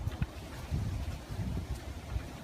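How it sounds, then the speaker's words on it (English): Outdoor wind gusts against the microphone in low, rumbling buffets that rise and fall over a few seconds, close and steady, with no talking. "A little windy out here."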